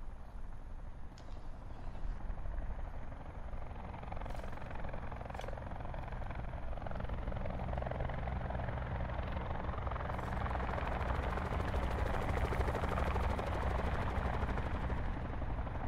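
A helicopter drones continuously in a Call of Duty: Black Ops 4 match, a dense rotor roar that swells steadily, with faint gunfire bursts scattered through it.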